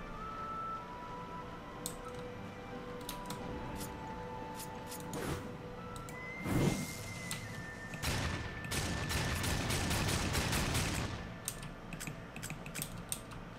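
Rapid bursts of gunfire in the video game Darksiders 2 crackle through the middle and late stretch of the clip, loud and clustered over a constant bed of game ambience.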